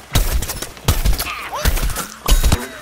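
Weapon fire in the shooter Plants vs. Zombies Garden Warfare: four loud, sharp bursts spaced roughly evenly apart, with brief whooshing and chirping game effects between shots.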